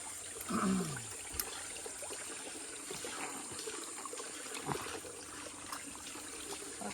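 Spring water trickles and gurgles steadily close by in a hillside channel, a continuous shallow flow with a few brief splashes and clicks.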